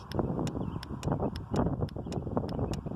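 Sharp little clicks of a Ford automotive relay energized across pins 85 and 86 repeat at a steady, fairly quick pace over a rough, windy background rumble, close to the microphone.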